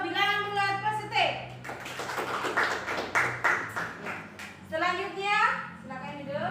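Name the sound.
classroom applause for a student group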